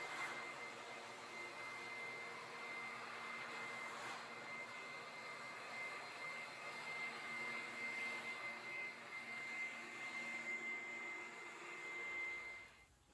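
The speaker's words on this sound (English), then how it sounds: "And blow off any of the final remnants of the chips." A blower clears leftover chips from an epoxy garage floor coated with polyaspartic, a steady loud whooshing drone with a high whine that runs almost the whole time and cuts off near the end.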